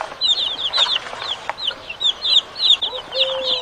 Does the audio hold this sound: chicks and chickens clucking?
yes